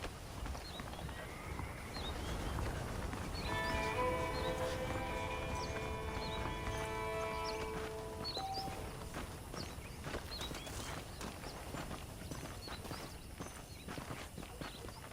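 Horses are saddled up and ridden in the Western video game Red Dead Redemption, hooves clip-clopping in a steady walking rhythm, with a sustained musical tone through the middle and chirping birds in the background.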